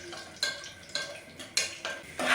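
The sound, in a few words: dry fruits frying in ghee in a pot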